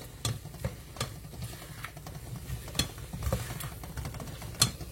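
Spelt grains stirred and sautéed in butter with onions in a pan, giving soft scraping and ticking stir sounds with occasional sharper clicks over a low steady sizzle, close and fairly quiet.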